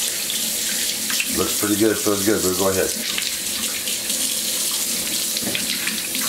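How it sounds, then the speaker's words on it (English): A tap runs steadily into a bath being filled for a monkey, a constant hiss of water that continues under a man's brief speech. "I'm checking the water, getting the temperature right."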